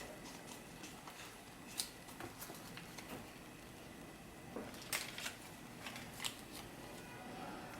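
Faint knife or scissor cuts trimming excess rolled vegan dough into a rectangle for homemade cinnamon toast crunch, a handful of short soft snips scattered over a quiet room background.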